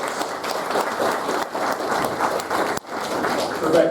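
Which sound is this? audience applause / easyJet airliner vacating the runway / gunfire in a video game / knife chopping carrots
audience applause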